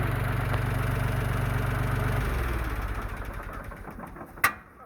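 Ford 4400 industrial tractor engine running weakly on a 6-volt supply, a steady low chugging idle that slows and fades, ending with a sharp clunk near the close.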